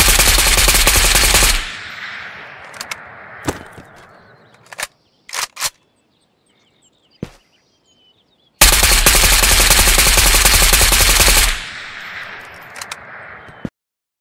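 Ghost of Tabor gun fitted with an FSG grip firing two long automatic bursts, loud and close, each about three seconds, separated by a gap with a few isolated sharp clicks, no speech.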